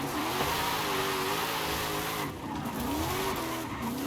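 A car with non-drift suspension slides sideways in Forza Horizon 5, its tires squealing in repeated rising whines over a constant revving engine.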